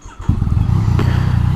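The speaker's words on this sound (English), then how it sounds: "Bike is fairly quiet at idle." A motorcycle engine idles close by with a steady, low, even putter that holds throughout, starting after a brief quiet moment and staying fairly quiet and unrevved.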